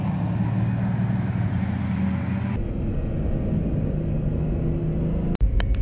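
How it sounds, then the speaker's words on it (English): A Bugatti Veyron on a race track produces a loud, steady engine rumble and road roar heard from inside the car, changing abruptly midway and ending with a sharp thump. "I was given the opportunity to ride in a Bugatti Veyron on a track."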